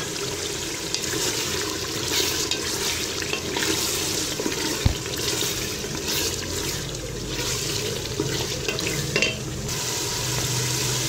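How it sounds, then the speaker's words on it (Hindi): Potatoes being fried and stirred in a pan over a high flame for a spinach and meat curry. A continuous sizzle and hiss runs throughout, with frequent spatula scrapes and one sharp clack of utensil on pan. No one speaks. "आलू ऐड करने के बाद मैंने इसे थोड़ा सा भूनना है।"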